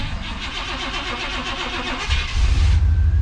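A 1988 Pontiac Firebird's engine cranks steadily, then catches around two seconds in and settles into a loud, rumbling idle close by, with no talking.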